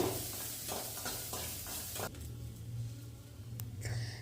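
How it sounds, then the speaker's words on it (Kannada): Ginger, garlic and byadagi chillies fry in a pan with a continuous close sizzle, broken by a few scraping stirs of a spoon. "ಐದಷ್ಟು ಬೆಳ್ಳುಳ್ಳಿನ ಹಾಕ್ಕೊಂಡು ಫ್ರೈ ಮಾಡ್ಕೋತಾ ಇದ್ದೀನಿ"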